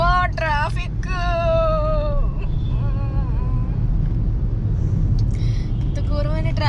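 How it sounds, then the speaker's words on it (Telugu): Heavy road traffic on a busy city street keeps up a steady, close engine rumble throughout, running beneath a person talking over it. "అబ్బా ట్రాఫిక్"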